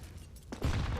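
A Counter-Strike grenade detonates partway through, a sudden broad blast with a heavy low-end rumble that sustains to the end, following quieter game ambience.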